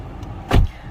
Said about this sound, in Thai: เวลาเราเปิดประตูก็จะมีเตือนแบบนี้เลยว่าประตูคนขับเปิดอยู่นะครับ